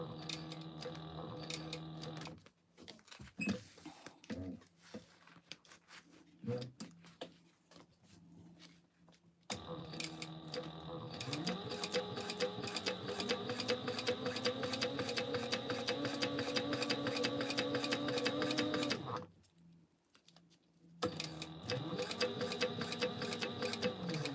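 A sewing machine stitching a backpack runs in rapid, steady ticking bursts, with a longer continuous run in the middle, pausing for quiet gaps and then restarting, close and fairly loud.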